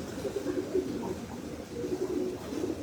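Pigeons coo softly and repeatedly in a breeders' loft, several close birds giving low rolling calls in an uneven rhythm, with no talking.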